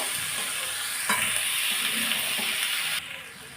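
Leafy greens with mixed vegetables sizzle steadily in a hot pan as they are stirred, producing a dense continuous frying hiss with a soft scrape, close and loud, then dropping slightly in level near the end.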